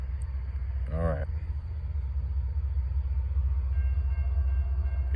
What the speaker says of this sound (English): This will be the last train right here